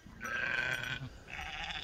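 Sheep out of their paddock bleat, one long wavering bleat followed by a second shorter call, close and fairly loud in an outdoor farm setting.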